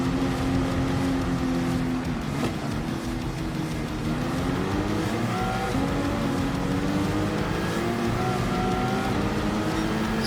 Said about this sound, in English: I love that V8. I think it's a great car. The Aston Martin.